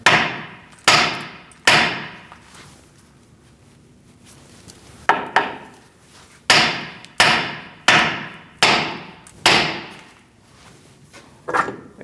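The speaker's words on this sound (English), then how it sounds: "Now you're going to give it a whack right here." A hammer whacks the front steering knuckle of a 2002-2006 Toyota Camry, giving about ten sharp, loud metallic strikes in uneven groups, each ringing briefly and then fading, with a quiet stretch in the middle and no speech.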